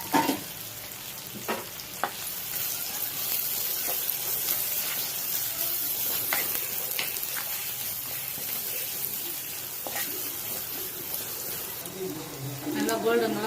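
Curry leaves and onion fry in hot oil for Chettinad-style goat trotter paya, giving a steady close sizzle with scattered stirring taps and scrapes throughout.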